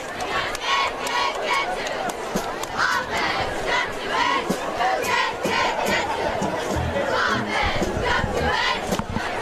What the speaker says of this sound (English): Cheerleaders are cheering.